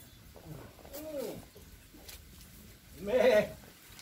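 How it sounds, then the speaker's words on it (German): Goats in a goat stable bleat twice, a short wavering call followed by a louder, nearer one, amid quiet barn background. "Ziegenstall."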